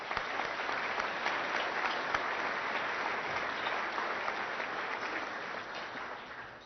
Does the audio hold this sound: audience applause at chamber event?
yes